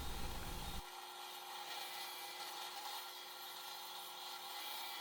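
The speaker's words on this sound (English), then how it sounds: "The fence allowed me to drill 1 set of holes, then flip the stack around and drill the second set" Drill press boring holes through a stack of wood boards with a 1/4 inch brad point bit, a steady close grinding whir that starts abruptly after a brief low thump and holds level throughout.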